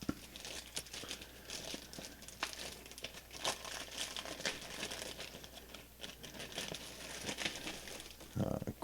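Packaging crinkling and rustling while a Line 6 HX Stomp in seafoam green is unboxed, with continuous close paper and plastic crackles and a brief louder rustle near the end.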